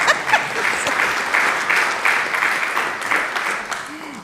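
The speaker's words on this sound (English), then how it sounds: "Yeah, you can clap." A church congregation applauding during a Sunday service, steady moderate clapping from many hands throughout, with faint voices mixed in.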